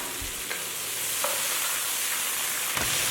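Chicken thigh stir-fried in a wok with sauce, chili bean paste, garlic and ginger, giving a steady close sizzle with a few scraping stirs of the spatula.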